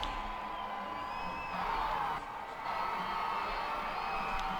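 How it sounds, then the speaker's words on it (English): Crowd noise at a high school football game, Guthrie High School against the Enid Plainsmen, with a steady broad roar of fans and a band, holding at an even level throughout with brief swells. "Now everybody wants everybody to cheer."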